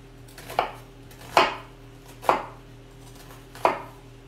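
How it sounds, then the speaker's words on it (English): A knife chops down through an onion on a cutting board in four separate, evenly spaced strokes, each a crisp thud close by against a low steady hum, with no voices. "and now we're going to cut downwards."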